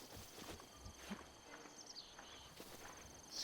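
Horse hooves clip-clop in a video game, a quiet rhythmic series of walking hoofbeats set against a faint, steady ambient background.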